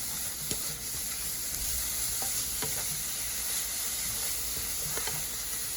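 Steady sizzling and hissing of mixed vegetables and cabbage frying in a pan, with occasional scrapes and clicks of stirring, close and moderately loud.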